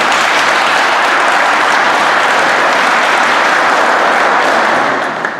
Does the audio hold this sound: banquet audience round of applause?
yes